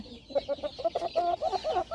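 A rooster clucks in distress while its bumblefoot is being treated, giving a rapid, uneven run of close, agitated clucks and squawks over about two seconds.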